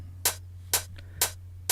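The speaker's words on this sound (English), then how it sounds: "So now over here I have an EQ8 which is rolling off the low ends." Layered hi-hats pass through an EQ8 that rolls off the lows, pulls down the high mids and trims the top end. They play alone as four crisp, evenly spaced hits with a faint in-between tick over a low constant hum.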